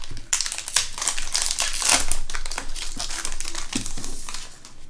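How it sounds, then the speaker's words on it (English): Pokémon Crimson Invasion card booster packs are torn open, giving a close, continuous crinkling and ripping of foil wrappers with sharp crackles throughout and no talking. "we'll get started ripping these packs open"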